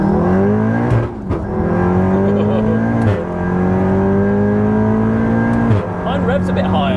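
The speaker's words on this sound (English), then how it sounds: "So you can hit limiter, which is what we just did there." A Volkswagen Golf R with a full manual mode revs hard to the limiter three times. Each rising engine howl climbs in pitch until the limiter cuts it off, then falls away. The engine is loud and close, and people talk over it.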